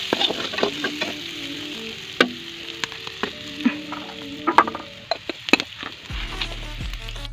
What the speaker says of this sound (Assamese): অলপ দেৰি এতিয়া ভাজি থ'ম।